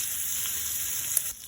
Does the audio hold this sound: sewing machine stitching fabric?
no